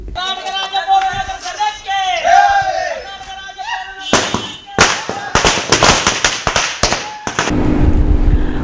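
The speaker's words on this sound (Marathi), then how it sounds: "कर्मचाऱ्यांनी नगर परिषद कार्यालयासमोर फटाक्यांची आतषबाजी करत आनंदोत्सव साजरा केला" Firecrackers set off in celebration by municipal council employees outside their office, first under excited crowd voices and shouting, then a rapid string of loud, close sharp bangs and crackles.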